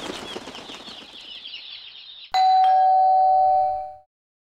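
A household doorbell rings once, a bright two-tone chime that sustains and fades over about two seconds, following a stretch of faint fluttering noise.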